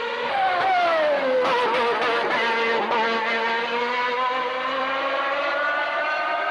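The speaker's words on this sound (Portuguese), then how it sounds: "Vou botar bem alto o som dos carros." A Formula 1 race car engine screams loudly up and down through the revs, with several quick throttle blips chopping the note into a stuttering rhythm as the car passes on track.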